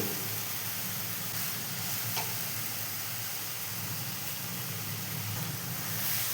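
Freshly grated coconut cooks in a pan over high flame with milk and sugar, giving a steady, even sizzle and hiss that runs without a break and without talk.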